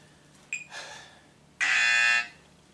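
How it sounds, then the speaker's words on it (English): Workout interval timer alarm during a side plank: a short electronic beep, then a sustained harsh buzzing tone of about half a second, close and clear with no talking. "So I have the interval timer set."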